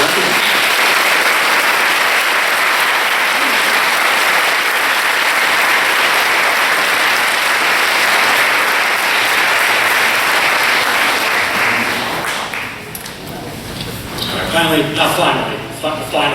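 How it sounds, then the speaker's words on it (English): A large audience at a Grade 5 school graduation gives a sustained round of loud applause for a lead marker, lasting about twelve seconds before dying away as a voice begins speaking. "Let's hear a round of applause for our lead marker"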